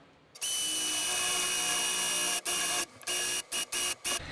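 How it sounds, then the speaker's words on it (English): A power drill bores a hole into a taped door frame to fit an August Smart Lock Pro Door Sense sensor, running loud and steady for about two seconds, then stopping and restarting in several short bursts. "now we are going to drill the hole."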